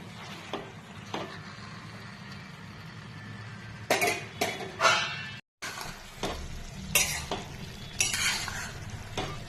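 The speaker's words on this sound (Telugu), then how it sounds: "వీటినన్నిటిని కాసేపు కలపెట్టేసి కాసేపు మగ్గనివ్వాలి." A spoon stirs ridge gourd and drumstick curry frying in a pan, with a quiet background sizzle broken by bursts of scraping and clinking stirs, a brief silent gap in the middle.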